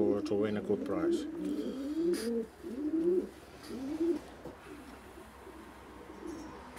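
Racing pigeon cooing in a series of soft, rolling low coos, close by and repeated about six times over several seconds, tapering off toward the end while someone talks in the background.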